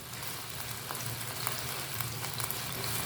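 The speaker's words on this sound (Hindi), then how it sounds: "अब हम इसका जो है ना मीडियम फ्लेम रखेंगे और इसको हम फ्राई करेंगे" Marinated chicken fries over a medium flame in a stir-fry pan, a dense continuous sizzle with small crackling pops, close and steady throughout with no talking.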